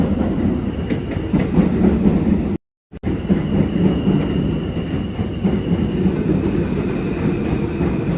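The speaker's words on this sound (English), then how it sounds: "We're gonna ride the train just for a few seconds before we get into a station." A Queens-bound G line subway train in Brooklyn rumbles steadily along the tracks with rhythmic clattering and a brief dropout, continuous and close for several seconds.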